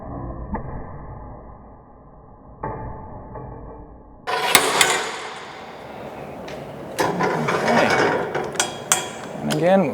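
A 3mm 700-grade X700 underbody protection plate for a Toyota Prado 150 and FJ takes a drop test: a low steady hum, then a loud metallic impact followed by clanking, rattling mechanical knocks close by.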